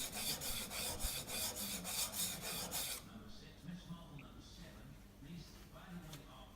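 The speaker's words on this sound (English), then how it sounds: "pick it up slightly for a honing angle, and move it backwards and forwards. Use the whole width of the stone." A steel chisel blade rasps back and forth across a sharpening stone in quick, even strokes for about three seconds, then goes quiet while someone talks.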